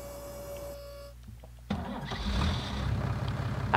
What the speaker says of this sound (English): I forgot to start the engine.